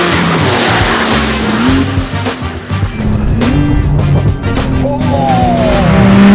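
A tuned Porsche 911 Turbo S with over 1,000 horsepower roars loudly and continuously close by, its engine note rising and falling through gear changes with tire squeal layered in.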